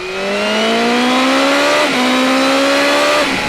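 A BMW M 1000 R motorcycle, tyres and engine still being run in, accelerates hard with a loud, rising engine note. It climbs steadily, drops briefly at a gear change, then climbs again and eases off near the end.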